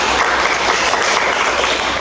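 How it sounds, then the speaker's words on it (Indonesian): A crowd claps continuously, a dense steady wash of applause at close range with no pauses. "Oke, tepuk tangan dulu dong."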